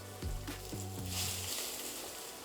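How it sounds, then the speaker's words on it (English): Salmon fillets for blackened salmon sliders sizzle in a hot pan, a loud bright frying hiss swelling as they go in, with a low hum underneath that fades out midway. "now we're gonna start adding our salmon"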